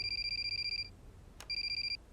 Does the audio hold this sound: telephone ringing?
yes